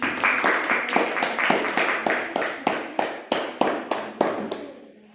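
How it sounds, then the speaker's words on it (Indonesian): Classroom applause for a student: a steady run of about a dozen sharp, evenly spaced claps, close and fairly loud, fading out at the end. "Aplaus untuk Narik."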